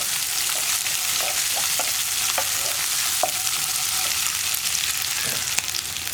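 Curry leaves hitting onions frying in a pan produce a constant crackling sizzle dotted with small pops and light stirring clicks, close and moderately loud with no speech.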